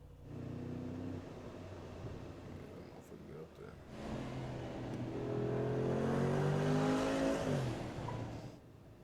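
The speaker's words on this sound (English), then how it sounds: "let's actually drive this car around" A Brabus 6X6 engine hums and revs as the vehicle drives off, building louder and rising in pitch before easing, while people talk over it.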